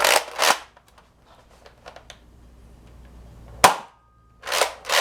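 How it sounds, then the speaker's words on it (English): Nerf Rival Artemis blaster fired outdoors: a few sharp, close pops with short bursts of air, two near the start, one sudden crack near the middle, and two more at the end, with quiet gaps between. "And let's take some shots."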